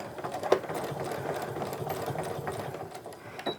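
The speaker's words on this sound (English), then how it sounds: "I'm going to go ahead and stitch until I hit that seam allowance" A sewing machine stitches along a tote bag seam toward the seam allowance, running as a steady motor whir with a sharp clack near the start and another near the end.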